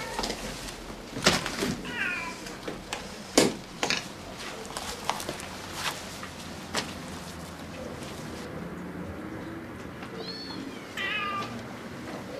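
Several cats meow in short scattered calls amid sharp knocks and clatter in a smelly room crowded with cats, the mews quiet to moderate and spread through the scene.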